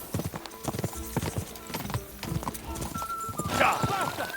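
Galloping horse hooves in the video game Kingdom Come: Deliverance II pound out a loud, rhythmic clip-clop close by. A person talks over the hooves, and a brief neigh comes in near the end.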